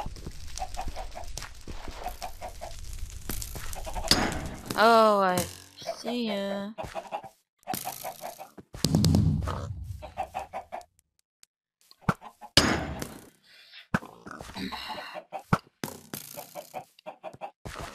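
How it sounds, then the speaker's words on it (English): Chickens clucking in Minecraft during a BlockHunt mini-game, repeated short clucks and squawks near and fairly loud, mixed with game noises and someone talking over parts of it. "Oh goddamn chicken."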